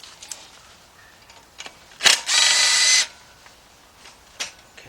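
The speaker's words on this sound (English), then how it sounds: "And unbolt everything you find." A power tool works loose bolts at the back of a car engine intake on a Trailblazer-type SUV during a valve cover gasket job, a short close whir of under a second between faint clicks and handling noise.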